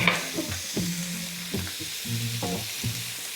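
Food sizzling in a pan while being stirred, steady frying hiss with rhythmic scraping strokes of the utensil, close and alone.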